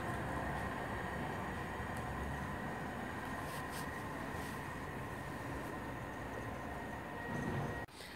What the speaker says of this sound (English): Departing 3 minutes late, 323208, the 1407 to Redditch.